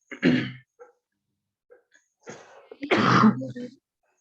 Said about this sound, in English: I can hear that you're coughing